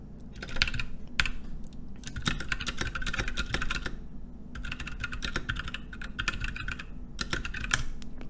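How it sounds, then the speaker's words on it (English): Computer keyboard keys clack in quick bursts of typing separated by short pauses, close and fairly quiet, with no talk. "Let's type this up, syntax error."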